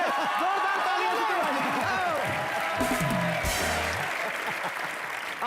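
Loud studio audience applause on a comedy talk show, a continuous hiss of clapping running throughout and mixed with voices and other show sounds.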